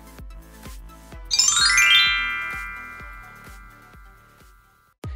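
A bright notification bell ding rings out once, its ringing tones slowly fading, over a steady rhythmic thumping beat that continues underneath.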